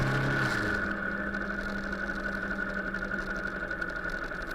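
A motorcycle engine runs steadily while the rider holds third gear, giving a continuous, fairly loud drone with a constant tone throughout and no talking.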